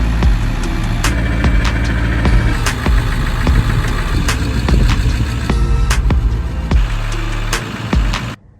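A 1999 Ford F250 with a 7.3 turbo diesel runs with a loud, steady throbbing idle and sharp repeated clicks or knocks, then cuts off at the end.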